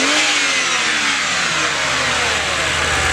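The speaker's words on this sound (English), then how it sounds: "Rev it." A BMW E90 fitted with a DIY cold air intake revs loudly and continuously, a steady close engine roar with shifting pitch that fills the whole stretch, no speech over it.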